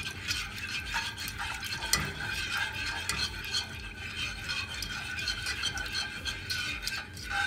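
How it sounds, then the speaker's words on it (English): Lemon pepper mustard sauce being whisked in a pan, giving a steady busy scraping and clicking of the whisk against metal over a soft simmer, close and continuous with no talking. "So now whisk this really well."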